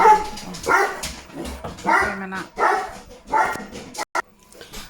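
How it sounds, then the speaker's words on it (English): A dog barks indoors in a home craft room, several loud, irregular barks and yips in quick succession, close to the microphone, fading to quiet at the end. "I think the dog's gone loopy as well. I don't know what on earth he was barking at"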